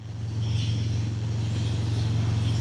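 A Harley-Davidson Breakout 117 motorcycle cruises along steadily, its engine a loud, continuous low rumble with a throbbing beat and broad wind noise over it, close and with no voices.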